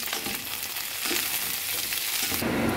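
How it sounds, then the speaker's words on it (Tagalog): Garlic frying in a hot pan gives off a loud, continuous crackling sizzle, close up, with a brief stir or fresh burst of spitting near the end and no talking. "Ilagay natin ang bawang."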